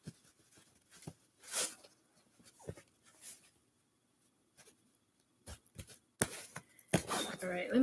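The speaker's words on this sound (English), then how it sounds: "I feel like I need to shuffle one more time." A deck of cards is shuffled at close range in scattered soft riffles and sharp flicks, with quiet pauses between bursts and a louder run of shuffling at the end.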